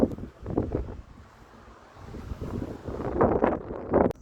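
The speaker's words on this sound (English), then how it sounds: "The wind is so tough." Strong wind buffeting the microphone outdoors on a thru-hike, a rough gusty roar that surges and fades in uneven bursts, with no voices.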